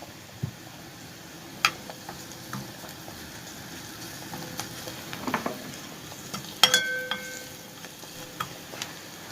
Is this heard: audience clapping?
no